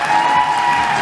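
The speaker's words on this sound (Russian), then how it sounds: "Здесь аплодисменты, друзья, громче." Audience applause at the closing ceremony of the Silver Akbuzat film festival in Ufa, a dense steady wash of clapping and crowd noise filling the whole moment.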